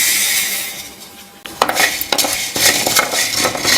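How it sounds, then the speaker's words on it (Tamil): Black pepper dry-roasting in a pan for rasam premix powder, with a utensil stirring and scraping through it. Sharp clinks and rattling strokes come close after a quieter stretch, with no talk. "மிளகு சும்மா கொஞ்ச நேரம் ஒரு 10 முறை அப்படி வறுத்துட்டு"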